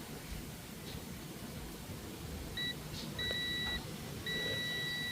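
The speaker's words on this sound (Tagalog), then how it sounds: "kumuha tayo ng tester at set na natin sa buzzer mode." A handheld multimeter set to continuity buzzer mode, used to check a shorted part on a Samsung LED TV under repair, gives a short beep followed by two longer steady beeps over a faint hiss.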